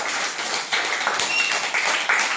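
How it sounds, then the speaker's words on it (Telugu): Schoolchildren clapping for their classmates in a Telugu classroom: a brief, uneven burst of many small hands clapping, close and moderately loud, with no talk over it. "పిల్లలు వీళ్ళందరికీ ఒకసారి క్లాప్స్ కొట్టండి."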